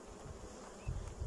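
Honey bees buzz steadily around an opened hive during a spring colony merge in the cool evening, a dense close drone with a couple of louder swells.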